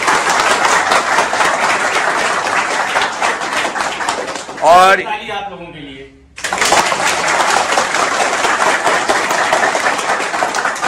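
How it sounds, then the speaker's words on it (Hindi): A class of students in a computer hardware course claps for themselves, a dense and sustained round of applause that stops briefly while a voice speaks and then starts again. "एक बार अपने लिए ताली बजा लो यार।"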